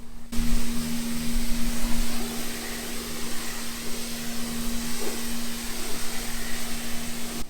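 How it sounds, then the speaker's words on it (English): Pressure washer rinsing snow foam off a VW Jetta: a steady, loud hissing spray with a constant motor hum underneath, running without pause throughout. "it is now time to rinse off the Snowfoam"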